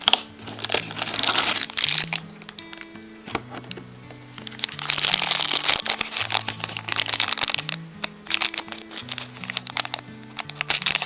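Plastic and cardboard packaging of a Harry Potter Funko Pop advent calendar crinkles and crackles as it is cut open with scissors, in steady close bursts over soft background music.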